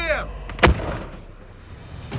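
A single sharp, booming cannon shot from a BMP infantry fighting vehicle rings out with a long rumbling tail, while voices can be heard around it.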